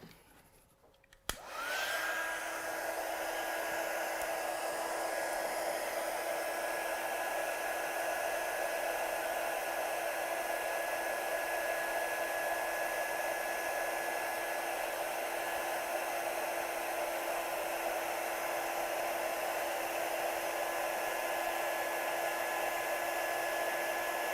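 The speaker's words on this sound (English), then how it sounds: "So let's just heat set that." A heat tool switches on with a click and blows steadily, a loud continuous whooshing hiss with a faint whine, while setting stamped watercolour in a craft session.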